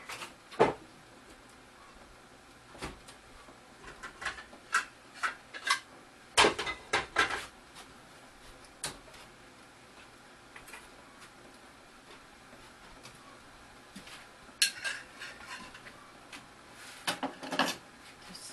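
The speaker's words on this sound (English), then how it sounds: "I'm going to grab a bowl and a fork" A bowl and a fork are taken from a kitchen cupboard and drawer, with scattered thuds, clinks and sliding rattles in irregular bursts, close by but modest in level.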